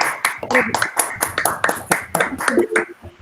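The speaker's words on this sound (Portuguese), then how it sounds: "Um abraço e uma salva de palmas." Brief applause at the close of a lecture on refugees, scattered individual hand claps in an uneven rhythm, near and fairly sparse, mixed with people talking and saying goodbyes.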